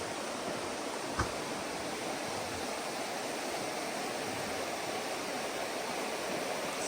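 Panther Creek rushes along the Pacific Crest Trail in Section H, a steady, full-spectrum wash of flowing water that holds constant for the whole stretch, with no voices over it.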